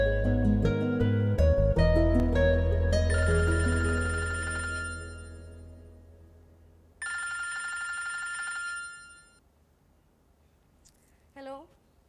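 A telephone rings in two distinct bursts, the first following a fading stretch of music and the second after a short pause, heard clearly in a quiet indoor scene from a Pakistani drama.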